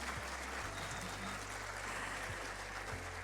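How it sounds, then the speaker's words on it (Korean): An audience at the 2025 Science and ICT Day award ceremony applauds with steady, dense clapping that fills the hall without a break for the whole moment. "박수를 부탁드리겠습니다"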